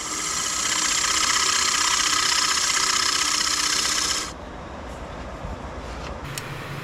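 Wood lathe turning a bowl while a tool cuts a dovetail recess for chuck jaws, a loud steady broadband scraping hiss for about four seconds, then the cut stops abruptly, leaving a quieter motor hum with faint ticks.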